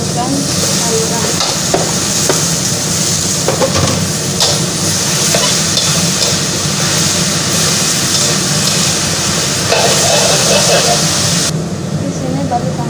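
Chicken and kailan greens stir-fried in a pan, with a steady close sizzle and frying hiss under scraping stirring strokes, running continuously throughout at a fairly loud level.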